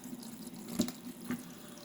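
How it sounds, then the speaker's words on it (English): Water runs from a tap into a sink full of fidget toys, a soft steady trickle with a couple of brief splashing clatters, fairly faint and without voices. "Let's get the water running."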